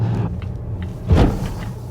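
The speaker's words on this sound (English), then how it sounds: "Ooh, that was a big bump. Yeah, that was a pothole." A sudden heavy thump and jolt as a 2019 Volvo XC90 hits a pothole rises out of steady low car-interior rumble, a single sharp bump lasting a split second before the road noise settles back.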